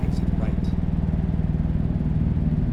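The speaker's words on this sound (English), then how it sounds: "Kill my power, use some engine brake here." Volvo VNL truck in a truck simulator game under engine braking, a loud, steady low rumbling drone that pulses rapidly throughout, with a brief faint higher sound near the start.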